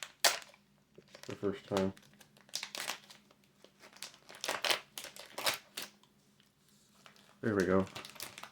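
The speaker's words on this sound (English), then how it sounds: "Dollarama pack number 1 being opened. I hate when they don't rip right" A Dollarama trading card pack crinkles and tears open in short foil rustles and rips, with a person talking briefly between the bursts.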